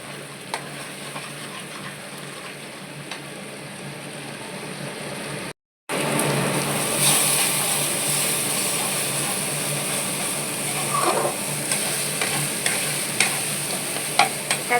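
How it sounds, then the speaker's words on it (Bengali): Vegetables with turmeric fry in a pan, a steady close sizzle with occasional scraping clicks of stirring running throughout, no voices heard. "এটাকে পুরো তোমার নেড়ে নেড়ে এটাকে শুকনো করে নিতে হবে।"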